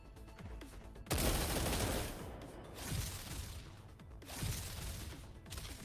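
Automatic turrets in Zenless Zone Zero unleash a sustained roar of rapid gunfire, loud and dense from the start, then pulse in repeated bursts with a few whooshing sweeps between them.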